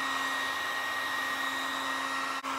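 A heat gun blows hot air in a steady, close, unbroken whir with a constant electric hum, used for painting and customizing a Freewing 90mm F-16 foam jet model.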